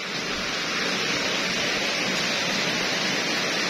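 Rain falls steadily on a hot day over farmland, making an even, continuous hiss with no pauses or voices.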